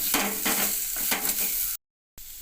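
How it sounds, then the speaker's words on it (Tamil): Chopped onion and tomato sautéing in a pan, stirred with rhythmic scraping strokes over a soft sizzle, close and clear; the sound drops out briefly near the end before resuming, with no voices. "தக்காளியும் சேர்த்து மிக்ஸ் பண்ணிவிடுங்க நல்லா"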